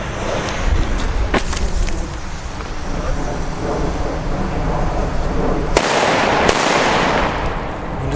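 Sharp New Year's Eve firecracker bangs and crackles from a firework cake burst out over a constant rumbling roar, with a few louder, distinct pops standing out near the end.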